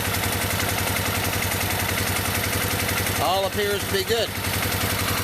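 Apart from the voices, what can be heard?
Suzuki VX800 motorcycle engine idling after oil change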